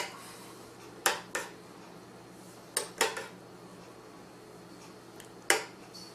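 Honey-dipped orange and spice cookies are flipped over in simmering syrup, with a few sharp utensil clicks against the pot spaced seconds apart over a steady low background hum.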